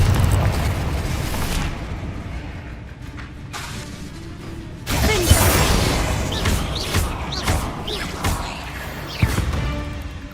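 A Confringo blasting spell explodes in Hogwarts Legacy with a loud, close boom that rolls into crackling debris, followed by further sharp bursts and rumbling impacts.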